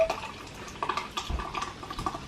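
A canned drink is poured into a glass, giving a gurgling, fizzy splash with uneven bursts and bubbling throughout; close, with no talk.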